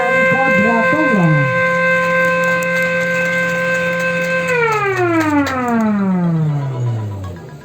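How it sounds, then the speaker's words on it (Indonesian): An electronic siren sounds at an inauguration ceremony, winding up to a loud steady tone that holds for several seconds, then sliding smoothly down in pitch as it winds off. "Dilanjutkan dengan penekanan tombol sirene secara bersama-sama"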